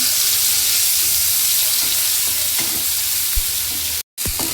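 A ground spice masala mix sizzles in hot oil in a pan for a paneer masala curry, a dense, close, continuous frying hiss with a few soft stirring knocks and a brief gap near the end, no speech.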